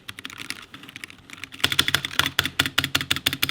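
Typing on a Drop ENTR tenkeyless budget computer keyboard: soft sparse keystrokes at first, then a fast, loud, close run of clacking keypresses with no talking.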